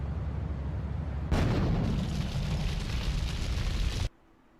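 A grenade explosion in a video game, heard as a sudden broad roaring burst that holds steady for nearly three seconds before cutting off sharply, loud and close.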